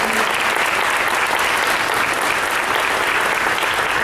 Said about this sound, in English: Let's give these fine MTSU honorees a round of applause.